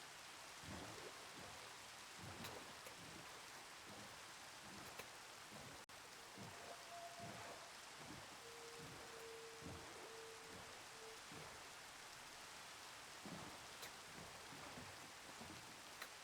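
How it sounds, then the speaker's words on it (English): Steady Minecraft rain pours in a savanna biome, a continuous even hiss that fills the whole clip. Soft, regularly spaced thuds sit beneath it, and no one speaks. "Oh, great, it's raining."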